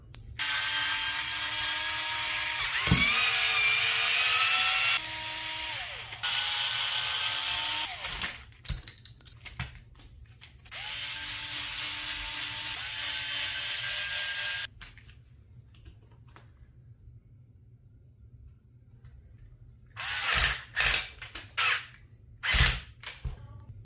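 A power tool whines in several sustained bursts with brief pauses while removing the stock shock tower from an Arrma Talion RC car, followed by quieter gaps and a few sharp clicking knocks.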